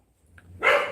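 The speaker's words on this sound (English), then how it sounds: "Sorry about the dogs. Quiet down." A dog gives a single sharp bark after a brief soft yip, fairly close and loud, at a home in the Philippines.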